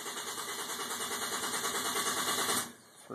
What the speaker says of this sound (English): and it'll continue cranking